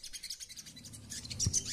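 A sogon bird gives quick, faint chirps and tweets in a domestic setting, soft and fairly distant, with no voices over them.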